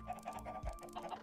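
Chickens clucking in the Minecraft video game, a few short repeated clucks and squawks in a quick uneven rhythm, fairly close and moderately loud with a low thump partway through.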